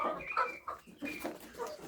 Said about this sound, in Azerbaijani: Baxın dostlar, bir folluqda 3 toyuğu görə bilərsiniz.